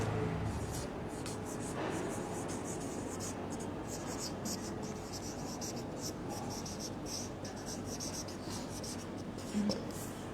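A pen scratches across paper in a soft, continuous scribbling rasp, close and steady throughout, with a faint bump near the end.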